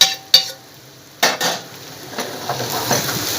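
Mashed potato samosa filling frying in a pan, with sharp spatula scrapes and clinks against the metal over a soft, low sizzle.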